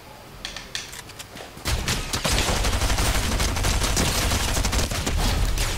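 Blaster gun firing in Fortnite, a rapid stream of sharp energy shots that starts faintly and then becomes loud, dense, continuous fire for several seconds.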